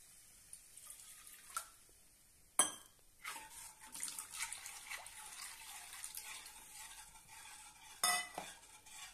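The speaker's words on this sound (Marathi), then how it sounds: "यामध्ये सतत पळी हलवत राहूया" A ladle scrapes and stirs in a pot of dahi kadhi over low heat, soft liquid sloshing, sharp clinks of metal against the rim now and then, close by.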